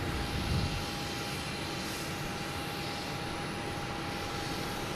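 Airliner landing at Boston Logan Airport, its steady engine roar broad and continuous at moderate distance, with a thin sustained whine running through the whole stretch and no talk.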